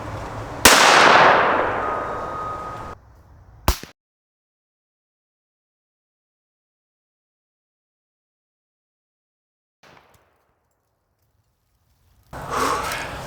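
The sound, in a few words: gunshot from 17 Winchester Super Magnum rifle hitting cans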